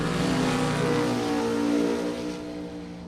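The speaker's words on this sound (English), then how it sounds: "nice long smoky burnout" A drag race car does a long smoky burnout, a loud sustained engine roar with tire noise that holds steady for several seconds before easing slightly at the end.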